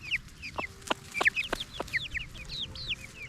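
Backyard chickens in a permaculture garden food forest cluck and chirp continuously while pecking at blue plumbago, with several short sharp calls from the flock close by and no talking.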